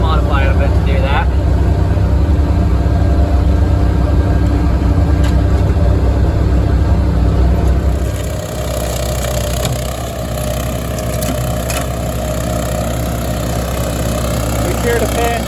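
A modified side-by-side UTV fitted with a snowblower runs with a steady, loud engine drone that shifts slightly lower partway through, continuing without a break from start to finish.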